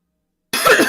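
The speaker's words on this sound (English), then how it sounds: "Sorry, I had to cough." A single abrupt, close, loud human cough breaks out of silence and ends the moment.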